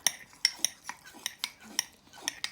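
A metal utensil stirs mug pizza dough mixture in a mug, giving a quick series of bright clinks and scrapes against the sides, about a dozen taps in a fairly even rhythm with no talk.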